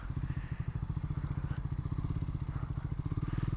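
Triumph Scrambler 400 X motorcycle engine thrumming steadily through a U-turn, a close, loud low pulsing rumble with rapid regular firing beats and slight rises in revs.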